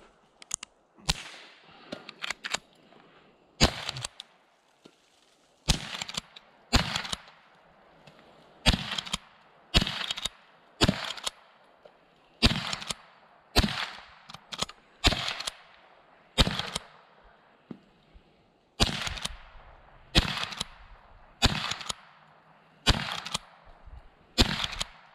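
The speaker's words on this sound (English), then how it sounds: "we're gonna try to shoot this one in the air and then shoot it on the ground." Sharp, loud cracks from a Winchester model 94/22 lever-action .22 rifle fired outdoors at bean cans, about twenty spaced shots in irregular pairs and singles, each with a brief echoing tail.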